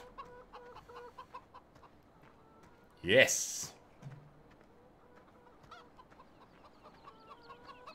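Chickens cluck softly and steadily in the Farming Simulator 17 game, with one louder squawk or crow partway through and someone talking quietly over the birds.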